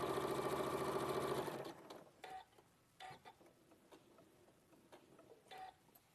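A sewing machine stitches fabric in a fast, even run for about a second and a half while chain piecing, then stops, followed by scattered clicks and small handling taps.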